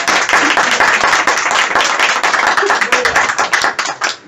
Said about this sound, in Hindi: तो हमेशा ताली बजाओ तो इज्जत वाली बजाओ